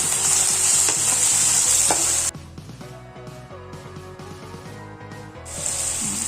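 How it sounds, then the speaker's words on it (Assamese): Paneer sizzles loudly in a hot wok while a spatula scrapes and stirs in a steady rhythm; the sizzle drops briefly, then returns. "একেখন কেৰাহীতে মই পনীৰখিনিও ভাজি ল'ম"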